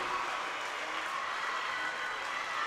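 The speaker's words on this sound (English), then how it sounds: "The crowd going nuts here at Valley City" Crowd noise at a high school girls' volleyball regional semifinal in Valley City, North Dakota, a steady broadband roar of cheering and clapping filling the gym without a break, fairly loud and continuous.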